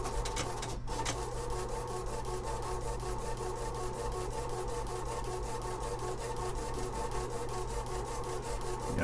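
An HP ColorPro pen plotter, long idle, draws steadily with a continuous mechanical whir, a low constant hum beneath, and regular faint ticking pulses, close and alone.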